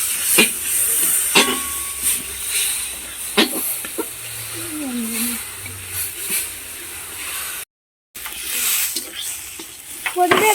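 Whole spices, then rice and lentils, are stirred in a pan: a soft hiss of frying under sharp scraping clicks of a spoon against the pan, with a faint voice in the background.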